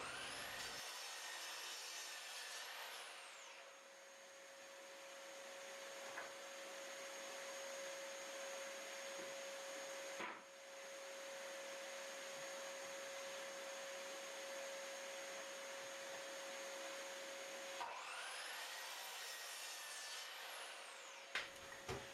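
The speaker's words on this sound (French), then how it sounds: "Je coupe ça à scie à onglet." A loud miter saw cutting wood boards whines up at the start and again near the end, with a long steady mechanical drone of tool noise in between.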